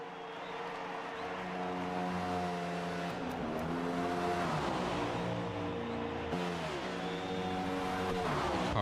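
Race cars in a NASCAR video game at the Brickyard 400 drone past in a steady, layered engine whine, pitches rising and falling as the pack runs together, with no voices.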